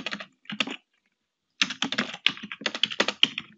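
Code is typed on a computer keyboard in rapid close-miked bursts of clicks, a brief burst, a pause of about a second, then a longer steady run of keystrokes.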